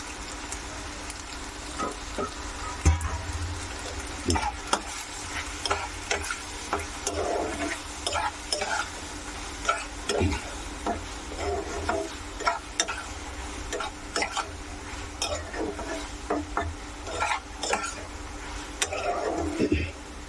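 Homemade pasta frying in a pan as sauce is added and stirred in, a steady low sizzle under repeated scraping and clacking stir strokes, close and fairly loud across the whole stretch.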